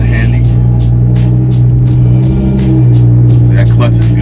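A Lamborghini Aventador engine rumbles loudly and steadily up close as the clutch engages, a deep constant drone with a slight rise in revs and faint ticking clicks over it.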